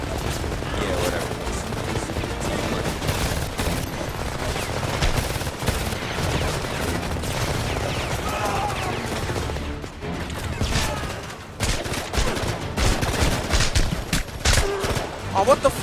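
Gunfire in the war shooter video game Homefront, dense bursts of rapid shots and automatic fire rattling almost continuously, loud and chaotic, with someone talking over the combat.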